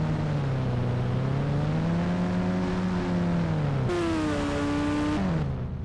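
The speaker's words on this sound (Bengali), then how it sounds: "হ্যাঁ পালসার RS 200। এই বাইকটা কিন্তু জোস" Bajaj Pulsar RS 200 motorcycle engine in a video game revs steadily, its pitch rising and falling, then shifting abruptly twice as it climbs and drops, loud and continuous throughout.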